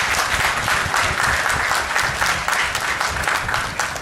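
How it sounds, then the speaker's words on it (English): An audience at a mosque open day applauds the Imam with dense, steady clapping from a crowd indoors. It sounds loud and sustained across the whole moment, with no talking over it. "Can we please give the Imam a round of applause?"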